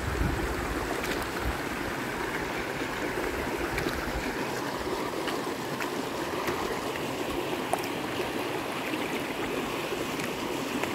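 A mountain stream on Kinapuin mountain burbles and rushes continuously, a steady close wash of water with occasional small splashes, no voices.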